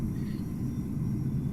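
A Boeing 787-9 airliner passes at Amsterdam Schiphol in Microsoft Flight Simulator, a steady low jet rumble, loud and sustained, with no talk.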